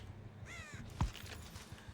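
A crow in the horror game Dead by Daylight gives a single short harsh caw, followed by a low thump, against quiet ambient background sound.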